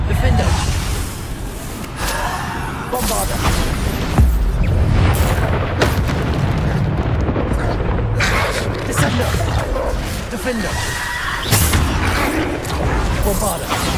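Bombarda spell explosions in Hogwarts Legacy boom repeatedly amid whooshing spell casts and combat noise, loud and near, with short shouted spell names over the fighting.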